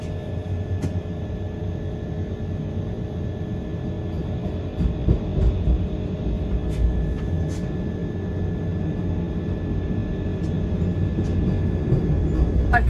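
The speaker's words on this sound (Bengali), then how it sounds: "তবে এই মুহূর্তে ট্রেন এখানে 9 মিনিট ডিলেতে ঢুকলো।" A Howrah–Gaya Vande Bharat Express pulls into a station platform, a steady low rumble with faint metallic clicks and a slight swell in loudness partway through, no voices.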